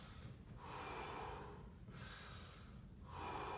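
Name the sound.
deep 360 breath demonstrated by a teacher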